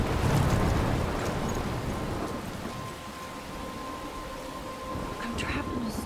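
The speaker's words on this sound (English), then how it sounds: "I'm trapped in a storm?" A video game storm sends steady rain hissing and wind and surf rumbling, with a faint low tone running through, moderately loud and continuous.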